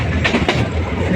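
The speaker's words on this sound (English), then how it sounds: "The train is moving very fast," A train rumbles past at close range, steady broadband roar with a couple of brighter rattling bursts from the wheels.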